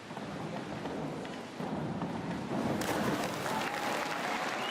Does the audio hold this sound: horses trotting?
no